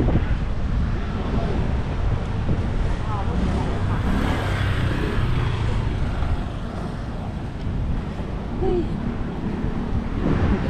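Steady wind buffets the microphone with a constant broadband roar, joined by low rumbling like passing traffic, with no clear voices.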